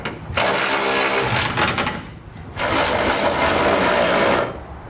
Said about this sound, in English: with all of our hardware in place and hand tight, we can snug it all down